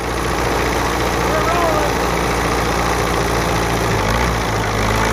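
A 1949 Case vintage farm tractor engine runs in fourth gear with a steady, loud, low rumbling drone and constant vibration, close to the microphone and unbroken throughout.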